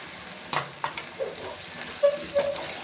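Mutton fries with gongura leaves in a pan, a constant close sizzle punctuated by several sharp spatula scrapes and clinks against the metal.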